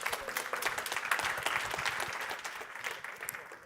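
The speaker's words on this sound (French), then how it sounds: "Merci de l'applaudir." Audience applause greets the speaker as she takes the stage for a tech talk on understanding Kubernetes visually, dense steady clapping from a crowd lasting several seconds without fading much.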